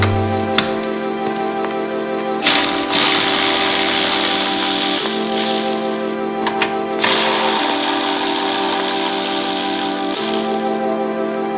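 A power tool whirs in two long runs on a 2022 Hyundai Veloster N as 10 mm bolts come off the coolant reservoir, each run a loud steady hum with a high rattle and short pauses between, and no speech.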